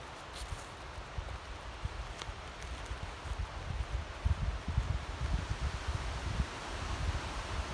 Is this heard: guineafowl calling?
no